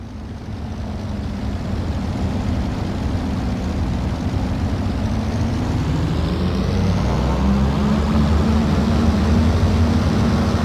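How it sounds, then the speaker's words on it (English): A Globe Swift light aircraft engine in a flight simulator game drones steadily for about ten seconds, a dense propeller rumble with a slowly shifting low pitch as it is being shut down. "We'll get the engine shut down, pulling the mixture there, cutting the mags"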